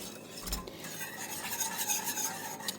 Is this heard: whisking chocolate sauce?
yes